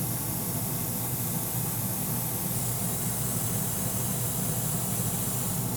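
An airbrush sprays Alclad Aqua Gloss in a steady, unbroken airy hiss, close and even for several seconds with no pauses.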